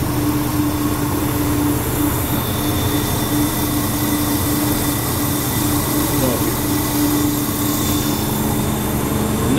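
A 280,000 BTU clean-burn waste oil heater running with its burner and fan on in a shop, a constant loud roar and whir with a steady tonal hum, no talking.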